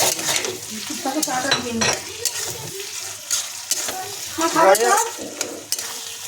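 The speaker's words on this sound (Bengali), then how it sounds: "এবার মাছটা আমি দিয়ে দিয়েছি, এটা ভাজা ভাজা" Boiled fish fries in a pan over a raised gas flame, a soft sizzle broken by scraping and stirring clatter from a utensil against the pan, close by and uneven in rhythm, with a little voice in the background.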